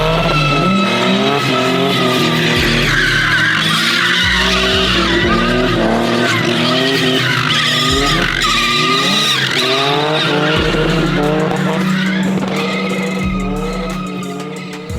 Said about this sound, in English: I drive a Nissan Skyline, powered with a VQ25 turbocharged currently.